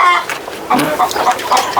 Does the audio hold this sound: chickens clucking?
yes